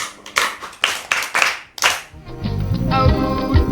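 An audience claps at a Yoruba community gathering, a series of sharp separate claps rising into steady, dense applause, loud and close.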